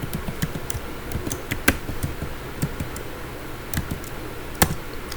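Rapid keystrokes on a computer keyboard as a password is entered, irregular close clicks with a few sharper key hits, no voices.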